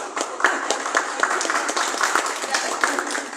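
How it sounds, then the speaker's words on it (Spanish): Audience applause for a lawyer at a Peruvian civic gathering. Steady clapping from a crowd carries on without a break and sounds fairly close and moderately loud, with a few sharper individual claps standing out. "Un aplauso para el doctor Antonio Falla."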